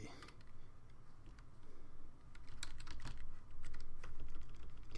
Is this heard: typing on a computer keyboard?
yes